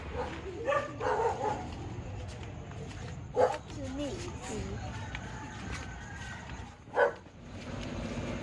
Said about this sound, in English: you've got some visitors. Very nice, the neighbourhood doggies.